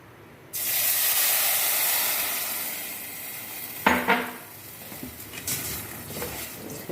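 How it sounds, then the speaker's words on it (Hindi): Milk poured into a hot pan for sheer kurma, a loud steady hiss and sizzle rising at once and easing off, with brief clinks and stirring scrapes near the end. "अब हम इसमें अपना शामिल करेंगे दूध।"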